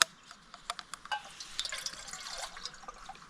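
A spoon stirs freshly made coffee in a cup, giving a quick run of small clinks and liquid swishes close up with no talking.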